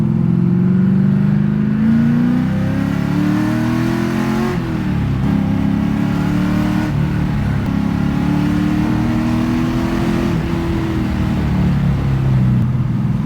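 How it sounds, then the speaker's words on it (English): An LS-engined car with a T56 manual transmission revs hard at high RPM, a loud continuous engine roar rising and falling in pitch through several swells over about thirteen seconds, with no talking. "We'll give it a little rip here and see how it shifts at higher RPM."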